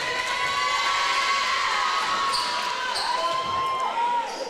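A crowd cheers steadily inside a high school girls' basketball gym during a Lady Bears versus Lady Eagles game, with sneaker squeaks and a bouncing ball breaking through the sustained roar.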